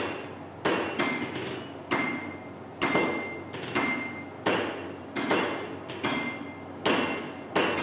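A student blacksmith strikes hot metal on an anvil during an art-ironwork class, about a dozen sharp ringing hammer blows falling at a steady, slightly uneven pace with a metallic clink after each.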